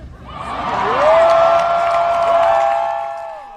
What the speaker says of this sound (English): the crowd cheering at him saying F America